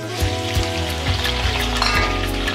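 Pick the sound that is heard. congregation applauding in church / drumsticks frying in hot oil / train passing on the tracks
drumsticks frying in hot oil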